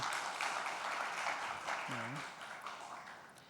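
A church congregation claps in thanks after a special song at a Sunday worship service, a soft, steady patter of many hands heard from a distance, with a brief voice rising over it midway.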